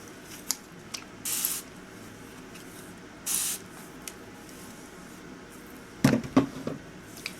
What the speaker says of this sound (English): I will be going in with a spray bottle to loosen up the hair a little bit.